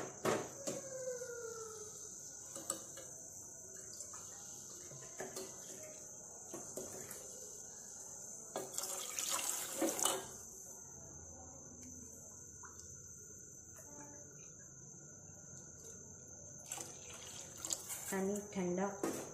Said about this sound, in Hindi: अब हम इसमें 3 कप ठंडा पानी डालते हैं।